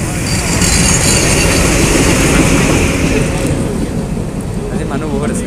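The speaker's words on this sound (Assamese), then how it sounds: "বেছি দীঘল নহয় ট্ৰেইনখন" A long train rolls past up close on a morning cycle ride, with a loud, steady broadband rumble and rattle that fills the whole stretch and eases slightly toward the end.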